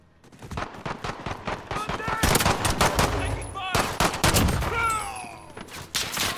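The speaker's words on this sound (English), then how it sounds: "Oh, we're getting shot from the left as well." Gunfire in Call of Duty: Modern Warfare, with dense rapid bursts of automatic fire and single shots cracking close and loud, overlapping in a sustained firefight.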